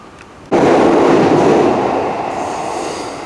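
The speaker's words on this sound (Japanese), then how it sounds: "もう通勤電車も走る時間になっちゃいましたね" A commuter train in central Tokyo near Ginza bursts in loudly and close at once, then roars past as a steady rumble with a faint wheel squeal and slowly fades.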